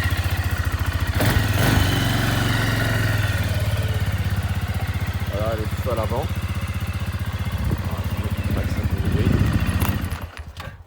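A 450 Maxxer quad ATV engine idles nearby with a steady rapid chugging throb that continues throughout, briefly revving near the end before cutting off, while someone talks over it.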